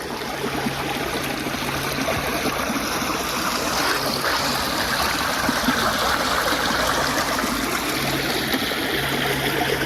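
Water rushes steadily through a modern sluice with curved edges outdoors, a continuous close, broadband gushing and splashing at an even level, with no speech.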